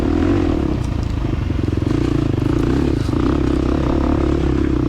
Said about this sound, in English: I'm liking the way this 4-stroke thumper's just chugging along